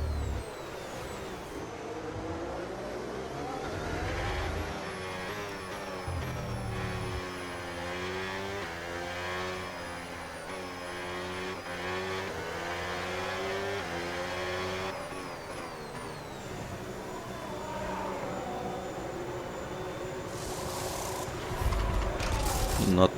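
An F1 car in a racing video game comes into the pit lane, its engine droning steadily with rising and falling pitch sweeps for a long stretch, loud and close, then revving up at the end.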